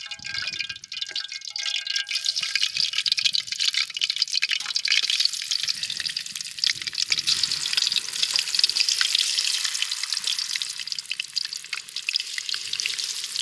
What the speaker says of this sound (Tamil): இன்னும் நல்லா சூடாகிட்டு நம்ம மசாலா சேர்த்து வச்சு சிக்கன் அப்படியே பொரிச்சு எடுத்துக்கலாம்.